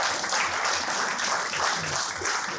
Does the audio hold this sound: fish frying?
no